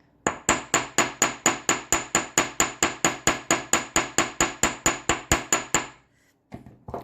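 Hammer rapidly tapping a wire circle for earrings, about two dozen crisp, evenly spaced metallic strikes close by, ending abruptly.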